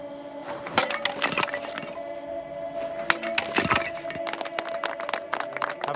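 A clay wine amphora is smashed at an ancient Celtic sacrificial site, giving a series of sharp cracks and clattering breaks as pottery shards scatter and tinkle, close and fairly loud across several seconds.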